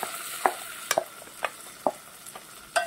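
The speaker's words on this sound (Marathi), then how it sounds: "ह्या तेलात परतून घ्यायचा आहे." Washed rice is stirred in oil in a pot, giving a soft, faint sizzle under a series of sharp scraping strokes from the spoon, about six spaced clicks over a few seconds.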